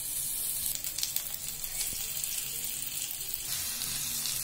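Masala-coated hilsa fish pieces fry in oil on a hot pan, giving a steady, loud, close sizzle that runs the whole time with faint clinks over it.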